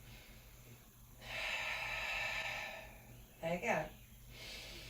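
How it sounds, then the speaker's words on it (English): A long, airy inhale and exhale during a standing pilates flow, audible and close, followed by a short snorting breath, with an instructor's voice briefly heard. "And breathe."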